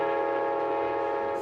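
Alaska Railroad train horn blaring, a single sustained chord held loud and close for the whole moment, with no one speaking.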